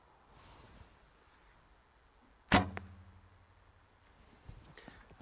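An arrow is loosed from an S&H Icaro ILF riser bow with Uukha VX+ limbs, giving a single sharp, close release snap and a short ringing decay amid quiet outdoor air.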